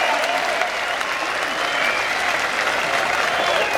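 Audience applause at an outdoor stage event at the Eden Project, a dense, steady wash of clapping from a large crowd that holds evenly throughout.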